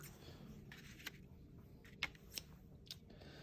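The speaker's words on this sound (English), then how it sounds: "you can just take your scissors, trim it, make it fit a little better" A few sharp snips of scissors cutting paper, spaced irregularly, close by and fairly quiet against a low background hum.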